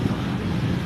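Steady wind gusting across the microphone, a dense low rumble with no other sounds.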